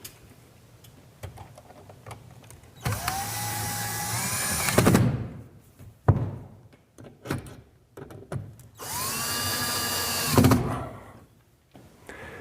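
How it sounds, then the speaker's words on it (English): A power drill drives 3-inch screws into wall anchors while a 2x2 strip is fastened for a stained, varnished oak shelf; two separate whining bursts rise and wind down, each lasting a couple of seconds, with quiet clicks between. "line up the 2x2 with the pencil lines and run 3-inch screws into the anchors"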